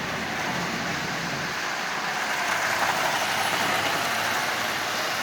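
A Lionel 8351 Santa Fe diesel model train with a second roller contactor and windscreen runs steadily while pulling ten cars, giving a continuous close whirring rumble that grows slightly louder partway through, with no talk.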